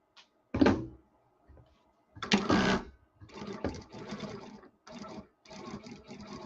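A sewing machine stitches American Girl doll clothes in short bursts, several separate runs of stitching with brief pauses between them, close and fairly loud.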